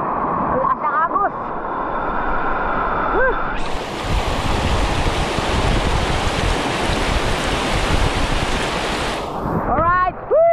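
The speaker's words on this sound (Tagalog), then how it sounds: "Lakas ng agos." Strong, rushing current of cold water pours steadily and loudly around a person caught in it, a dense continuous roar with voices shouting over it at the start and end.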